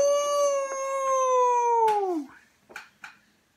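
A human voice imitates a spooky ghostly wail, one long sliding howl that falls in pitch and fades, followed by a couple of soft breathy sounds, close and alone.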